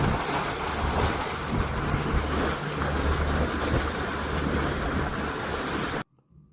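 A steady rush of water splashing and churning as a boat moves through bioluminescent water, with wind buffeting the microphone, then it cuts out abruptly near the end.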